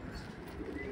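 Pigeons cooing softly inside a pigeon loft, a faint, brief low murmur under background noise.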